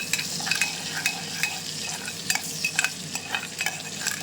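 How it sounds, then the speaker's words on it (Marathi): Garlic sizzling in a ghee tempering for jeera rice, a close, steady frying hiss broken by repeated scraping stirs of a spatula in the pan, with no talking. "तुपाची फोडणी जिरा राईसला खूप छान लागते."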